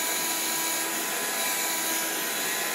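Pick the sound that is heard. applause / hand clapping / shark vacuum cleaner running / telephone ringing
shark vacuum cleaner running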